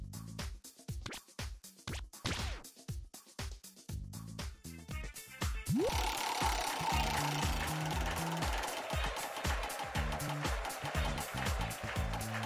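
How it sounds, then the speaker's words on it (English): A prize wheel spins in the TV Show King quiz video game, rapid evenly spaced ticks at first, then a denser clattering whirl with a game tune underneath. "Will you spin the wheel?"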